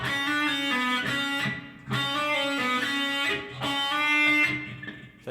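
Distorted electric guitar plays a passage, bright harmonic-rich notes ringing in bursts with brief gaps between phrases, loud and close with no talking.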